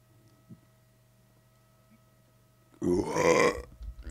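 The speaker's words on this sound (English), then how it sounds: "Sorry for burping straight into the mic." A single loud, close burp goes straight into a microphone, a throaty belch lasting under a second after near silence, followed by a faint voice.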